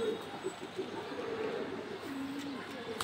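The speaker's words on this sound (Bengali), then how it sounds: "দেখেন, কবুতরটা হাতে ধরেই রাখা যাচ্ছে না" A racing pigeon held in the hand gives soft, low, close coos in short repeated phrases over faint background noise.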